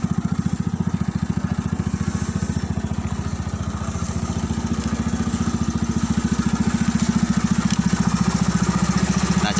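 A motorcycle engine fitted in a homemade car runs steadily close by, a loud rapid pulsing putter with slight swells in speed, no talk over it.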